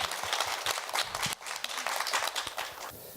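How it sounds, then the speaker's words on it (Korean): An audience at a Korean disability empathy talk show applauds, a dense, even patter of many hands heard from a distance, fading toward the end of a few seconds. "큰 박수 한 번만 다시 한번 부탁드립니다"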